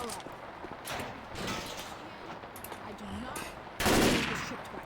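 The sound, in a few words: M16 assault rifle gunfire in video game Left 4 Dead 2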